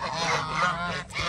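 Ducks, with chickens nearby, honk and squabble over termites in a continuous, close cluster of nasal goose-like calls, dipping briefly near the end.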